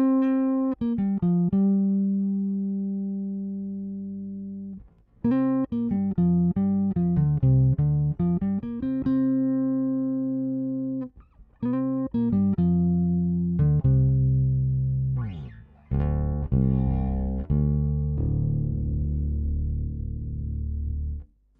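Bass guitar played through an Ashdown RM500 EVO 2 bass head set flat, with no sub-harmonics. Short melodic phrases of plucked notes are separated by brief gaps, and a denser, fuller passage ends the run. The notes sound clean and fairly loud, with no talk over them.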